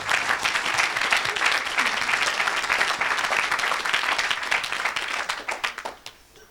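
A church congregation at a Sunday worship service applauds loudly and steadily for several seconds before the clapping thins out and stops.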